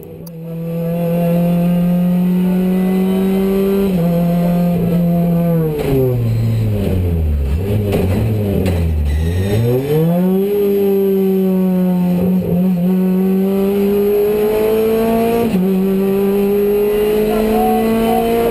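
A race car engine sounds loud and close through a long run at a driver experience day, its pitch climbing, dropping sharply as it slows, then rising again through the gears in a steady, sweeping roar.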